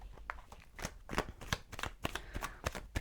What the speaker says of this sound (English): I'm going to take another couple of cards.